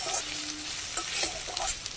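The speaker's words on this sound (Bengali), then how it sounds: "গাজর আর ক্যাপসিকাম ভাজা করবো একটু।" Carrots and capsicum frying in a pan for chow mein make a steady, close sizzle throughout, with soft scraping stir strokes breaking through every half second or so.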